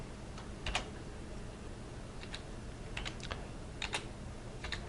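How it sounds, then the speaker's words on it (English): Password being typed on a computer keyboard, with scattered clusters of quick, light key clicks separated by short pauses, close and clear over a faint steady room hiss. "I'm going to type my password"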